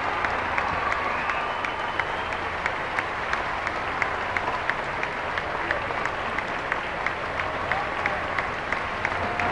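A crowd of about 2,400 faithful applauds the Pope on his arrival, continuous clapping with sharp individual claps poking through, heard at a moderate distance with faint cheering and murmur underneath.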